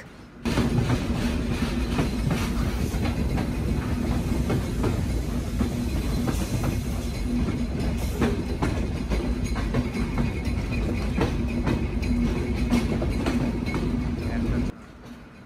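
Sundarban Express passenger train running on the line toward Poradah Junction, Bangladesh, with a steady loud rumble and clickety-clack of wheels throughout, heard from inside the carriage; faint voices may mingle with the noise.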